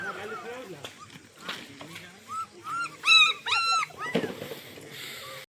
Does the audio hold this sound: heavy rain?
no